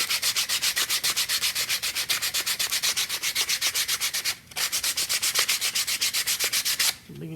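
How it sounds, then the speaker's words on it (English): Folded 80 grit sandpaper rubbed by hand back and forth along the grain of a wooden piece, a steady run of rapid, even scratchy strokes with one short pause midway, close and loud, with no talking. "take your 80 grit, 80, fold it. Then you're just going to sand it back and forth."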